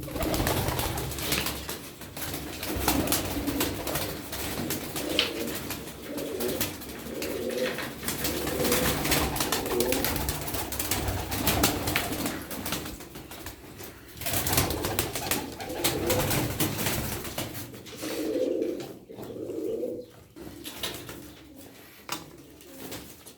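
Tumbler pigeons of the Çorum breed coo in soft, repeated rolling phrases, close by and fairly clear, with gaps between bursts and a faint background hum.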